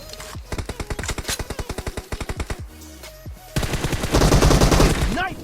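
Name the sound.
gunfire in the video game PUBG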